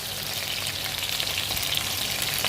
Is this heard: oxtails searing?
yes